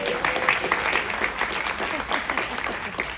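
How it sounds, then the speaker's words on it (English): An audience on a Carnival cruise ship applauds after a presentation on debarkation procedure. The brisk, close clapping is lively and even throughout the short burst. "Give yourselves a round of applause."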